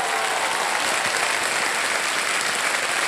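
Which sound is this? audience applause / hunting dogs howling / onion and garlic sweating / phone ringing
audience applause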